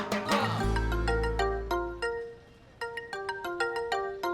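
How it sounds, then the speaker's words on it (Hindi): A mobile phone ringtone plays a bright melodic tune of repeated electronic notes, close and clear, with a low hum underneath at the start and no talking. "तेरा फोन बज रहा है।"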